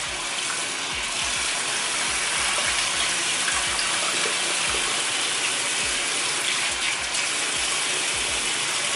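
Tap water runs steadily into a small houseplant pot being rinsed in a sink, a continuous close splashing gush with faint irregular knocks underneath.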